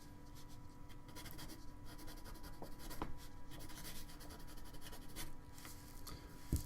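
A graphite pencil scratches across paper while a signature is written on a drawing, a faint, close, continuous rubbing with small quick strokes and no talking.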